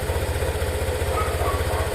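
A motorcycle fitted with an aftermarket power pipe and muffler idles while still cold, a steady low, lumpy engine pulse running throughout, loud and close, with no talk over it.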